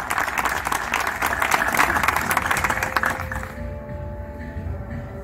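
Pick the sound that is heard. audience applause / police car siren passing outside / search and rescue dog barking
audience applause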